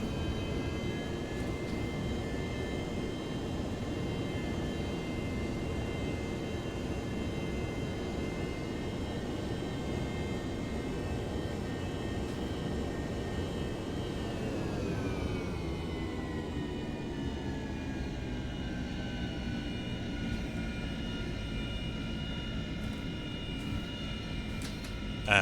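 A simulated F/A-18 jet engine in the IL-2 1946 flight game, a steady loud turbine roar with a whine while taxiing, its pitch shifting down midway and then holding even and continuous.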